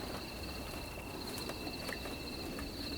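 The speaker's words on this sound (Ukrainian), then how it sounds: "Це цвіркуни." Crickets in the Ukrainian steppe at night, a thin high-pitched chirring that holds steady and faint across a quiet open landscape, with no one speaking.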